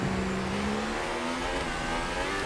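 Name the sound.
F1 race car accelerating out of pit lane, from F1 2018 video game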